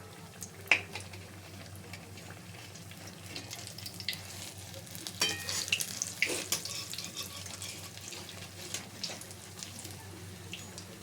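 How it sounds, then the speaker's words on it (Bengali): Potato chops dipped in besan batter frying in hot oil, a soft, continuous bubbling sizzle heard close with occasional splutters and clinks. "বড়াগুলো নিয়ে বেসনের মধ্যে চুবিয়ে ভাজব"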